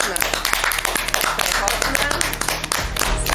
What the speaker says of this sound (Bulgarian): Сега аплодисменти и ето я нашата главна героиня.